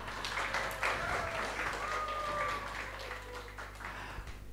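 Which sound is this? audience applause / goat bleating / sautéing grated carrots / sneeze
audience applause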